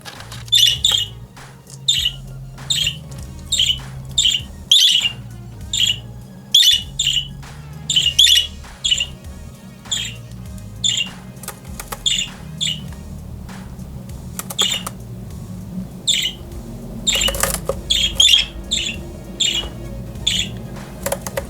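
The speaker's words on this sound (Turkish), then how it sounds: "Erkek muhabbet kuş sesi var." Male budgerigar calls played back: chirps and squawks repeat rapidly for the whole stretch, bright and busy, over a low background hum.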